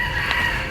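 A brief, loud, sustained tonal note from a rooster of a long-crowing chicken breed, heard close up with no voices.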